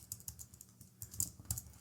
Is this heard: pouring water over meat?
no